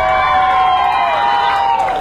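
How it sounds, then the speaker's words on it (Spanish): A crowd cheers and shouts for a contestant at a singing contest, loud whoops and voices sustained throughout with little distinct clapping. "¡Un aplauso para el participante número uno!"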